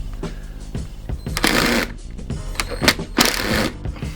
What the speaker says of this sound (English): So I've lined up the hinges now, so I'm going to tighten these.